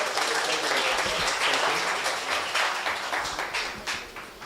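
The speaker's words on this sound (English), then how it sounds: "Can I have a huge round of applause for Taras?" A conference audience at a decentralized finance event claps steadily in a loud, dense burst of applause that fades slightly toward the end, with no talking over it.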